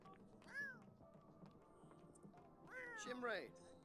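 Cat meowing and crying in The Sims 4, two distinct drawn-out meows, the second louder and more wavering, over faint game ambience.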